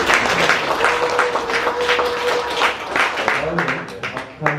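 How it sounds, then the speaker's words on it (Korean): At a national poetry recitation contest, an audience claps to welcome an arriving guest. The applause is a loose, medium-loud patter, and a voice talks over it the whole time. "큰 박수."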